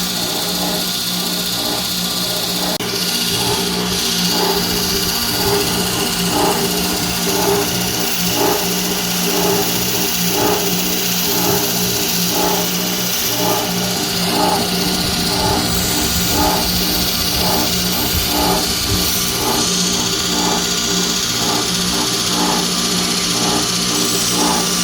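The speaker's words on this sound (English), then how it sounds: "a grinder pad can actually manipulate and cut so much of this metal off" Grinder pad cutting Damascus steel with copper inlay, a steady high mechanical whine with pulsing rhythmic scraping bursts running continuously at close range.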